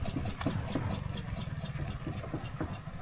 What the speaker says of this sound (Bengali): আজ আমরা দেখছি আর নৌকা আসছে